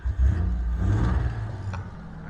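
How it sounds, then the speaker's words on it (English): A V6 engine swapped into an MGB, sourced from a Camaro, running steadily near idle with a low, even rumble and a slight rise in revs early on, close up and with no talk. "engine is running."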